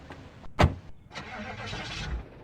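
A truck engine in the game Project Zomboid cranks with a short, sharp burst near the start, followed by a rough, sustained mechanical rumble of the motor turning over.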